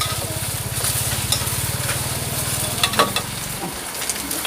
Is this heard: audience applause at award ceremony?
no